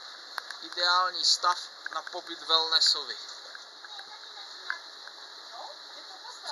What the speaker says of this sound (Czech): No, tak krásně prší.